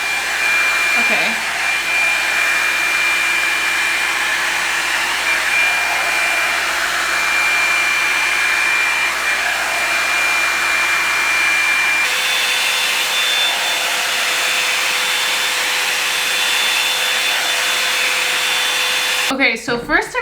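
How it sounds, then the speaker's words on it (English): A Revlon Salon One-Step hair dryer runs on its low setting, a loud, steady whooshing whine that holds for about twenty seconds with a slight shift in tone partway through, then fumbling handling noise at the end. "Obviously, we're gonna turn it on. I have it on low and it's pretty loud actually."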